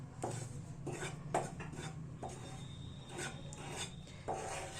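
Panjiri flour being stirred and roasted in a pan until golden brown, a dry rasping scrape of a spoon across the pan repeated in irregular strokes, close but quiet, with no talking.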